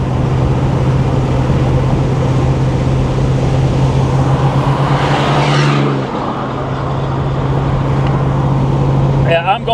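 A Monte Carlo SS with a newly fitted transmission cruises at highway speed around 75 mph, its engine and road noise forming a loud, steady drone with a steady low hum. Another vehicle whooshes past midway, and a voice speaks over the driving.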